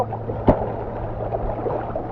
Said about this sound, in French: Il y a beaucoup de vagues.